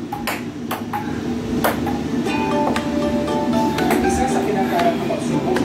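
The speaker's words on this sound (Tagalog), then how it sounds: "tinuruan si Justin table tennis para magalaw-galaw yung katawan" A table tennis ball is struck back and forth during play, giving a string of sharp, irregular pings and clicks over steady background voices and crowd noise.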